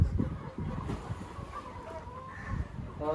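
Chickens and roosters on a village poultry farm cluck and murmur in a low, busy chatter, with scattered close calls and a brief higher cry near the end.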